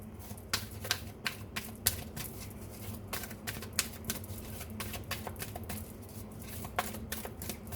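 Tarot cards being drawn and shuffled from a deck, a run of quick soft papery flicks and taps close by, no voices.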